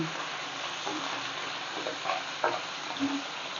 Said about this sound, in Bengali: প্রথমে আমি মাছগুলো ভেজে নিলাম মাথাগুলোও দিয়ে দিলাম